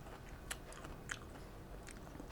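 Close bites and chewing while eating Lao papaya salad, a few soft crunchy mouthfuls spaced out over quiet, with no talk.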